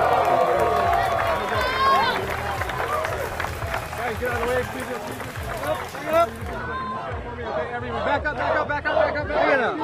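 A crowd at the final round of the 2021 United States Disc Golf Championship in Rock Hill cheers and shouts in bursts, with excited voices, whoops and chatter close by, mixed with nearby talking.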